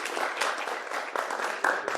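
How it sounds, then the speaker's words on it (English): A conference audience applauds in a steady, full-room burst, dense clapping that holds at even loudness with a slight surge near the end. "Round of applause for you."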